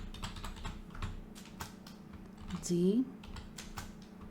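Rapid clicking keystrokes on a computer keyboard run throughout as a name is typed into a slide, close and moderately loud, with a voice speaking briefly in the middle.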